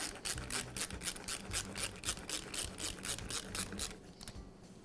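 A clamp is fitted over the bellows of a Husqvarna leaf blower during a repair, giving a steady run of close, rhythmic ratcheting clicks and rasping as the slack is taken up, ending in a softer rub.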